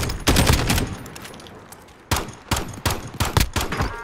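Pistol shots in a shooter video game, a single loud crack followed by a quick uneven string of sharp close shots.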